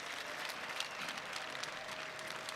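A church congregation claps together in sustained, even applause, a broad crowd of hands rattling steadily throughout without breaks or speech on top.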